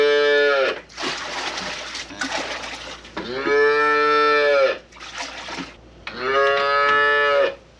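Calves in a barn during a snowstorm moo loudly and close by, five long drawn-out bawls with short gaps between them and no talking.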